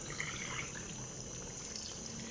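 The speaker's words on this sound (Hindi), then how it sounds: "थोड़ा सा भूनने के बाद हम इसमें पानी डाल देंगे" Water pours into a cooking pot for vegetable pulao, a soft continuous splashing and trickling, faint and steady throughout with no voices.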